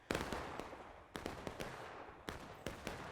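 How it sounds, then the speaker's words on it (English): Confederate artillery firing in a Civil War video game, set at Burnside's Bridge: four or five sharp, distant booms spaced irregularly, with faint crackling between them. "Confederate artillery, I assume that's Confederate artillery, dealing some damage"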